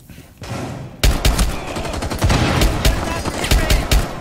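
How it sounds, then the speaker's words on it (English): Video game gunfire with rapid automatic bursts and single loud shots, close and sharp, firing repeatedly after a brief quieter start. "Someone's shooting me straight in the north side."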